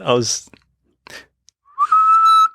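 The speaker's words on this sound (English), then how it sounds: "I've always been able to whistle louder when I'm sucking air in" Brief breathy vocal sounds and a few small clicks lead into a sharp, loud, steady whistle made while sucking air in near the end, strained and airy in tone.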